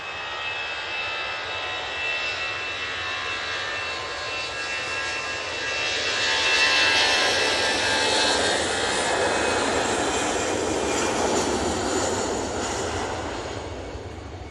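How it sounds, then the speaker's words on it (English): An Easyjet Airbus A320-200 departs Manchester Airport bound for Jersey, its jet roar steady and broad, swelling louder midway as it passes, then easing slightly while holding strong to the end. "And that Easyjet is off to Jersey."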